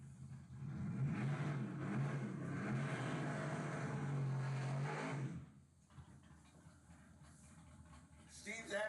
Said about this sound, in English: Steve's had this old Chevelle for a long, long time.